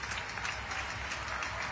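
Crowd applause at a WBBL championship basketball game between London Lions and Leicester Riders at the Copper Box fills the arena in a dense, steady wash of clapping, fairly distant and unbroken.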